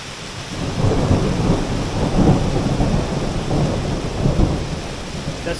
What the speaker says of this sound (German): Und dieser Starkregen, der wird auch immer stärker.